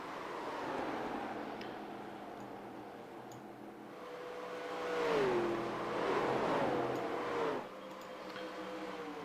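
A race car engine in a sim racing game drones and whines, pitch sweeping up and down as it revs through gears, with a louder surge midway before settling back to a steady hum.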